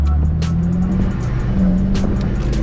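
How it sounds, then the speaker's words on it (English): An Infiniti G37 with a swapped VR transmission accelerates through its gears, a steady loud engine drone rising in pitch with each gear and broken by brief shifts. "I just want to see if the transmission shifts through all the gears"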